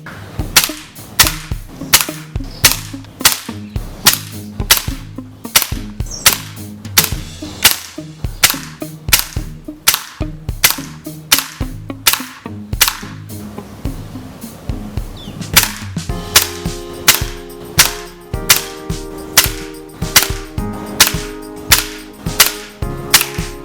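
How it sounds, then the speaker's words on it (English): An air rifle fires H&N Match 21-grain pellets at low power, a rapid series of sharp, close cracks and snaps in a steady rhythm, with a sustained tonal ringing or humming in the final stretch. "Let's shoot them and see what they do. Match, 21 grainers, low power."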